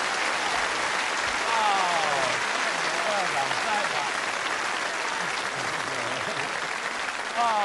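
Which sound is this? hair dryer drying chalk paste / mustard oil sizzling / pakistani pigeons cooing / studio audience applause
studio audience applause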